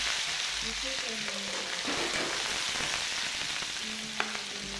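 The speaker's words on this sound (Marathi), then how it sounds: "तेलामध्ये असंच भाजून घ्यायचं 2 मिनटं." Onion greens and coriander fry in hot oil, a steady close sizzle with occasional stirring clicks throughout, no voices.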